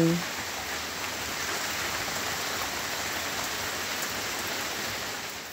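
Steady, light rain hisses evenly and softly for the whole stretch, a constant drizzle with no pauses.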